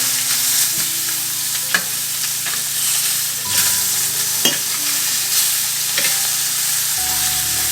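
A blackened cobia fillet sizzles steadily in a hot pan just after being flipped, a continuous loud frying hiss with occasional scrapes and stirring taps, no voices over it.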